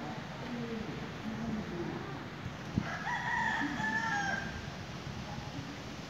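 At a Thai temple, a rooster gives one long crow in the middle of a steady outdoor hum, carrying at moderate distance, with a brief knock just before it and no voices.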